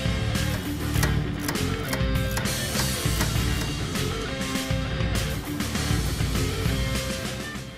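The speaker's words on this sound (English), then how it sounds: "We're going to start by removing the nut on top of the control valve where it connects to our pitman arm." A wrench works loose the nut on a 1965-1970 Ford Mustang power steering control valve where it joins the pitman arm, giving dense, close metallic clicking and ratcheting throughout.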